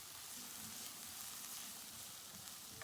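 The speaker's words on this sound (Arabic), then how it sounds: "البصله هنصفرها معاكم" Onion being lightly sautéed in a little fat in a pan gives a steady, faint sizzle that holds at an even level throughout, with no voices.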